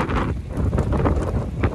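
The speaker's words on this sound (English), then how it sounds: "Hear it? Hear the wind?" Strong wind from a tornado roars and buffets the microphone continuously, with gusty surges throughout and no voices.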